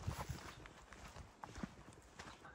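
Horses plod along a backcountry wilderness trail in the Bob Marshall Wilderness, with a steady clip-clop of hooves close by, irregular and loud at first, then quieter, over light outdoor background noise.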